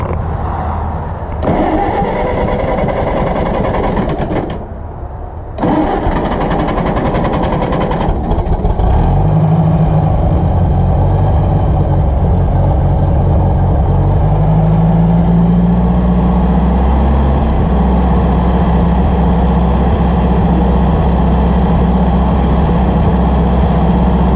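Cranking and sputtering of a 1956 International 300 Utility tractor engine, which catches partway through and settles into a loud, steady, throbbing idle.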